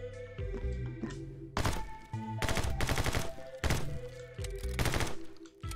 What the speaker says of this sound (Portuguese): Pega toda vez que eu tiro, mas lá no fundo.